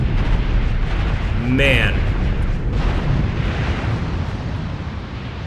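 Shell explosions strike an armored vehicle in the Angolan Civil War with a dense, loud rumbling roar. A brief whistling whine cuts through, and someone speaks a word over the din.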